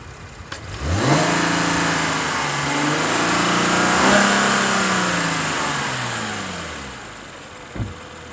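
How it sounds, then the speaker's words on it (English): A 2019 Chevrolet Camaro convertible's V6 engine revs up twice and settles back, with a rising and falling engine and exhaust note heard close and loud, without speech. "Sounds good for a V6."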